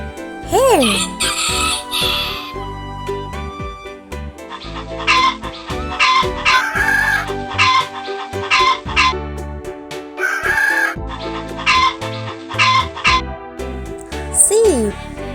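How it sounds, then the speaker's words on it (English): Hen clucking and a rooster crowing from a farm animal set for kids, with several crows rising and falling and bursts of clucking spread across the clip, loud and close, and no talking. "Hen."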